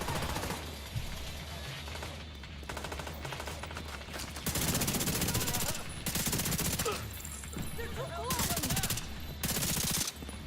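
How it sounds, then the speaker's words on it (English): Video-game gunfire: rapid automatic bursts and sustained machine-gun volleys, loud and close, rattling in several long stretches with brief gaps between them. "They're trying to shoot at the thing."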